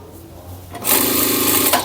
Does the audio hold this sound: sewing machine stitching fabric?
yes